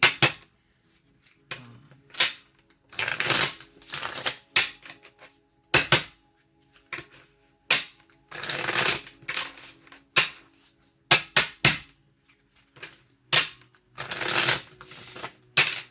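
Cards being shuffled close up in repeated quick riffling bursts, separated by short pauses, with no voices.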